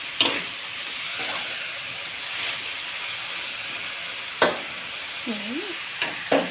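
Minced pork stir-fried with vegetables such as peas, baby corn, mushrooms and pickled cabbage in a pan, a steady loud sizzle and hiss with a few sharp scrapes and clanks of the spatula, and no voices.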